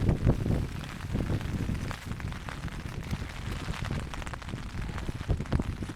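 Wind roars steadily across a wet, cold Scottish mountainside, buffeting hard with gusty surges and heavy rumbling and no voices.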